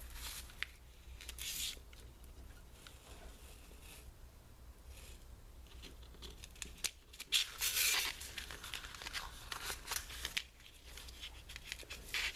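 Scissors or a craft knife cutting through stencil material, a series of soft snipping and rustling scrapes in bursts, close and fairly quiet, with a louder crisp stretch midway.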